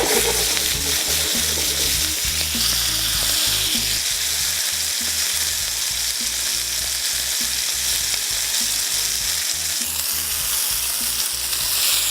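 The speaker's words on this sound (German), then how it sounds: "so 30 Sekunden pro Seite, scharf anbraten" Beef fillet sizzles and spits loudly in hot oil in a pan, a continuous crackling sear with small pops throughout.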